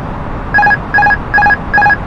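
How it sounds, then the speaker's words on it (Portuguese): An aircraft autopilot disconnect alert chimes in the cockpit: four evenly spaced bursts of bright, rapid electronic beeps, loud and clear over a low cabin hum. "esse barulho sonoro que vocês ouviram é o nosso piloto automático sendo desacoplado"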